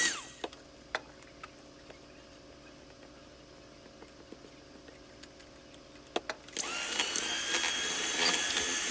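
An electric mixer whips pink strawberry cake batter, switching on loud and close about two-thirds of the way in after quiet scraping clicks and light taps against the bowl.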